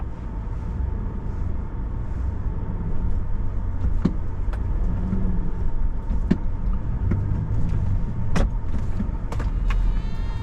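A vehicle rolls down a city street past stopped traffic, a steady low road rumble with scattered clicks and knocks, a faint whine near the end, and no voices.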